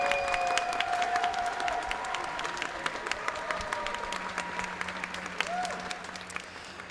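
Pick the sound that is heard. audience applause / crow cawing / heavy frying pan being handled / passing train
audience applause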